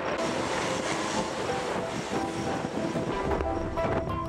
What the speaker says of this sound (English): It's a little bit windy up here today